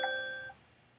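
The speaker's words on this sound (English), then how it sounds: "That was my alarm." A short electronic alarm tone sounds once, a bright ringing beep with several clear overtones that fades within half a second and is followed by near silence.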